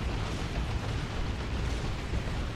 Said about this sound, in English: Rocket volley.